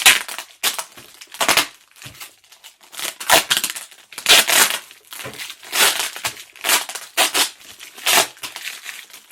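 Crackling, crinkling bursts of tape and packaging being ripped and crushed, close up, in irregular repeated tears with short pauses.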